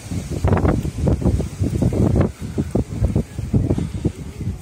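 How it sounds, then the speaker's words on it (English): Wind gusts on a hillside walk near Benidorm and Cala Finestrat, buffeting the microphone in loud, uneven rumbling bursts that rise and fall every second or so, with no voices. "Funny, there was no wind up there, now it's really picking up."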